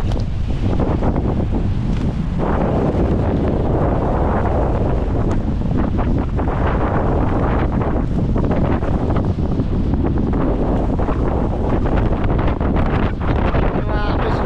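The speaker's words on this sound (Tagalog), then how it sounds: "Gano'ng kalakas ang hangin." Strong, continuous typhoon wind roaring and buffeting the microphone, loud and unbroken throughout, with faint rustling underneath.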